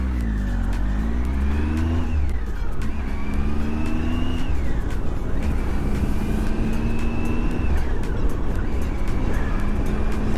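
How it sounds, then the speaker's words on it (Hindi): Road traffic streams past at a construction zone in hilly terrain, with engines revving and shifting through gears in repeated rising sweeps, a loud close rumble running continuously throughout. "उधर से ट्रैफिक आ रही है"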